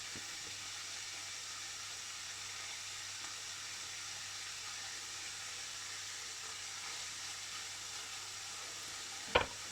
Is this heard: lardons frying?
yes